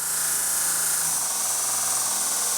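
A Vevor 1x30 belt sander runs at full speed, a loud, steady high-pitched whine and rush of the belt held up close, with a slight drop in pitch partway through; no voices.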